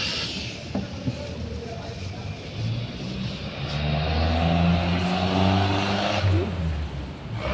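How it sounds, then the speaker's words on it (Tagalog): Pressurized nitrogen forced through the AC condenser of a Hyundai Tucson that holds black oil: a steady, loud rushing hiss runs the whole way, with a low droning rumble underneath that swells midway. "So bubombahin naman namin ng nitrogen to ngayon."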